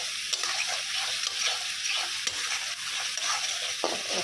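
Spices frying in a pan hiss in a continuous bright sizzle, broken by repeated scraping stirs at an uneven rhythm, with no voices.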